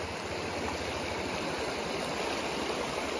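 Mountain river water rushing steadily at Shergaon, Arunachal Pradesh, a dense, continuous broadband roar close by with no voices, unbroken for the whole stretch.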